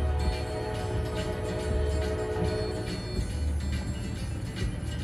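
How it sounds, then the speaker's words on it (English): A train passes nearby as a steady low rumble with a sustained horn-like tone, loud and unbroken for several seconds, with no talking over it. "Train!"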